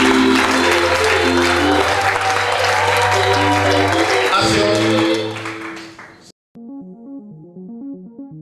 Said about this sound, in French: Est-ce qu'on peut acclamer pour ce message?